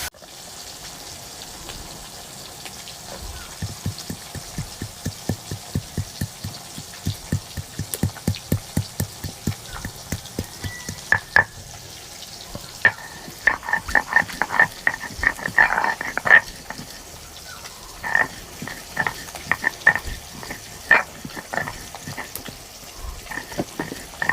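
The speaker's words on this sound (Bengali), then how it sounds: "তেল গরম হয়ে গেছে মাছগুলো ছেড়ে দেবো" Pieces of chital fish frying in hot oil give off a steady run of sharp crackles and pops, quick and fairly regular, growing busier and louder toward the end, heard close.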